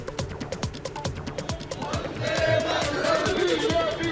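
A BJP protest procession moves through Balurghat, a dense crowd of marchers with clustered voices and rhythmic thuds early on, swelling into a louder, sustained roar of massed voices in the second half.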